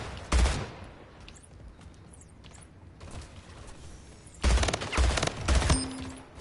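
Rapid automatic gunfire from the arena shooter Splitgate comes in loud close bursts, one short volley early and a longer stuttering barrage near the end, with quieter game ambience between.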